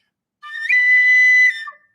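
A handheld hunting call imitates an elk with a single clear, high whistling bugle lasting about a second, close and loud in an otherwise quiet room.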